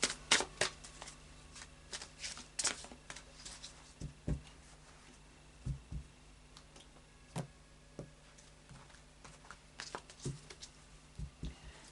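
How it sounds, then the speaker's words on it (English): Psychic Tarot cards being shuffled by hand, a series of soft, crisp riffling and tapping sounds in irregular bursts, close and quiet with no talking. "so I'll just do a final shuffle now"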